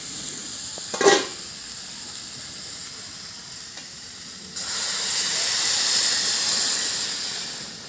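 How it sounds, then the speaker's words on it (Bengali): Hot water poured into a pan of Bhetki fish bone curry after the spices have been fried: a short sharp burst, then a few quiet seconds, then a loud rising steamy hiss and sizzle that fills the rest, no talk. "খাবারটা কিন্তু আমার কষে নেওয়া হয়ে গেছে, এবার আমি গরম জল দেবো।"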